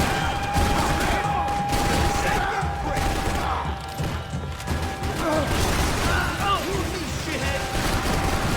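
Rapid gunfire in the Max Payne 3 video game, dense bursts of shots mixed with crashes and mechanical clatter, someone speaking over parts of it.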